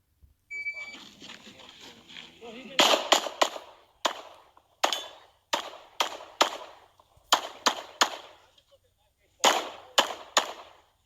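Glock 45 pistol shooting through a USPSA competition stage: crisp, loud reports in rapid pairs and triplets separated by short gaps, preceded by a couple of seconds of muffled background noise and voices.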